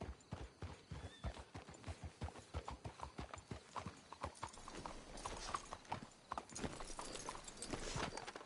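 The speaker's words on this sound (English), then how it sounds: "Let's hitch the horses up ahead." Steady clip-clop of horse hooves trotting at a brisk, even rhythm in the video game Red Dead Redemption 2, fairly close, with a few faint rustles and a brief whinny-like sound toward the end.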